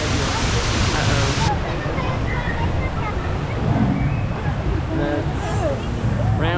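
Water rushing and splashing on a spinning theme park water ride, a steady loud wash with people's voices and excited chatter mixed in throughout.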